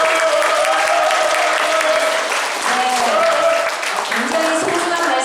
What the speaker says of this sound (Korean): 우리 홍석기 교수님께 다시 한번 뜨거운 박수 부탁드리겠습니다